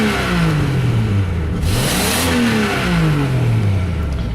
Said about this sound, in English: Just a great running engine.